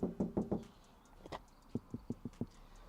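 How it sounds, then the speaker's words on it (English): Knocks on a soundproofed Toyota Yaris Cross car door: a loud burst of four hollow raps, then after a pause a set of duller, more muted taps in a steady rhythm, with no talk. "and then knock on this door"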